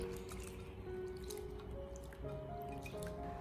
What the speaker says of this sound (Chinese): 再下手将大虾给它清洗一下，清洗掉大虾身上的一些脏东西